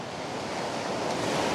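Steady broadband surf from ocean waves at Myrtle Beach, a continuous wash of breaking water with some wind rumble, loud and unbroken throughout with no voices.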